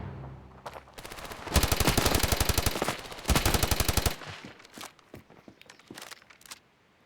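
Automatic gunfire in the mobile shooter Standoff, several loud sustained machine-gun bursts in quick succession, followed by scattered single shots and footsteps-like clatter.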